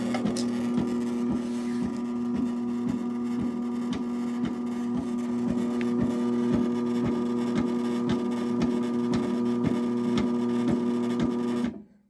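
A new-old-stock Sears sewing machine runs out of the box for the first time, giving a steady mechanical hum with a faint regular ticking throughout before stopping abruptly near the end.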